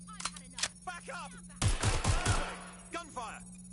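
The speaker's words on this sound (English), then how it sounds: "Gunfire!" A quick burst of automatic gunfire in the video game Watch Dogs: Legion, four or five rapid loud shots around the middle, with game voices and music before and after.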